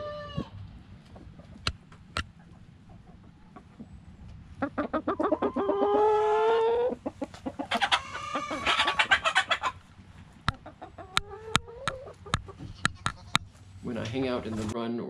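Chickens cluck and squawk in scattered bursts, with a few louder drawn-out calls among sharp, sporadic clicks in an otherwise quiet setting.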